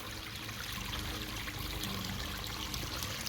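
Water trickles and splashes steadily in a backyard waterfall feature just turned back on after a leak repair, a continuous soft babbling flow without pause.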